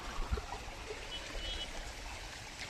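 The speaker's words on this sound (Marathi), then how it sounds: "ते पाटाचं पाणी आहे" Water trickling along a village irrigation channel near farmland and houses on a rainy day, a faint, soft steady flow with no voices over it.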